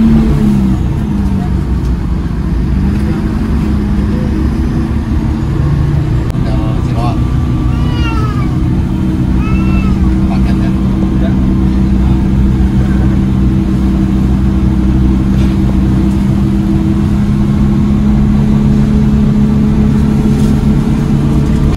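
Beneath the seat, the engine of a PO Haryanto bus hums with a steady low drone that rises slightly in pitch, heard from inside the cabin under ongoing talk and squeaky interior noises.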